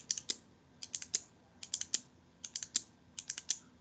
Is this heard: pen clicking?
yes